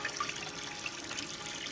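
Cool water running steadily from a sink tap, a soft, even hiss of flowing water at low level, continuous and unbroken.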